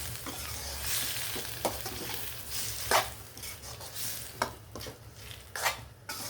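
Steady sizzle of an egg dish frying in a pan with coconut milk, occasional spoon stirs and scrapes against the pan, close by, no talking.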